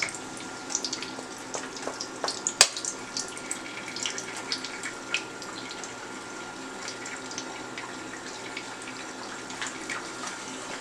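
A kitchen tap runs for hand washing, a soft steady wash of water near the sink with a few light clunks and splashes on top and no talk.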